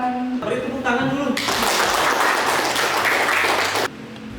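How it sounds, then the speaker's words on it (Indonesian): A classroom of students at a vocational high school bursts into applause, a dense wash of clapping lasting a few seconds after a brief stretch of voices, then cutting off sharply. "Beri tepuk tangan dulu."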